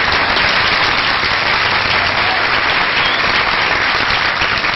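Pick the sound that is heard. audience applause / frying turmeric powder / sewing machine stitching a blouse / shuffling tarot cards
audience applause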